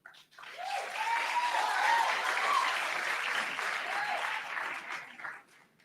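Audience at a national science week launch applauding and cheering a professor after his introduction, sustained clapping that swells and then fades, with a few higher cheers over it.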